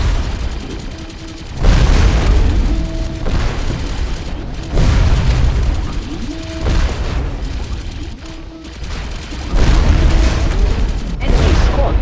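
Repeated heavy explosions in the mobile space defense game Red Siren: Space Defense as an enemy squad is destroyed, loud booming blasts arriving every few seconds over a constant rumbling game soundtrack.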